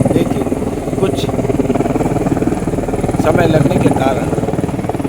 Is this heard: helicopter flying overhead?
yes